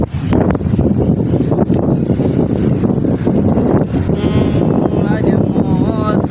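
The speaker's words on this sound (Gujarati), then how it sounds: "જે પવન આવી રહ્યો છે જે ઠંડો પવન લાગી રહ્યો છે" A cold storm wind roars continuously through Kharoi village in Gujarat, a loud, dense rush buffeting the microphone without letup, with faint higher tones near the end.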